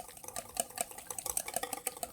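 Olive oil being whisked into egg yolk for homemade mayonnaise, a quiet, steady rhythmic clicking and swishing of a whisk against a bowl, close and unaccompanied by talk.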